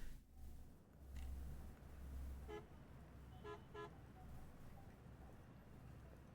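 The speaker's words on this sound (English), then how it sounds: "Why am I hearing car horns?" Car horns honk in the ambient soundtrack of the video game Umineko, with two or three short toots standing out over a steady low street hum.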